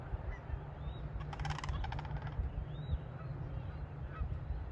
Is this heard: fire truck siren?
no